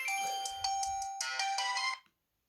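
A Samsung S3 Mini phone alarm rings as a bright, melodic chime of repeated electronic notes, loud and close, playing for about two seconds before cutting off abruptly.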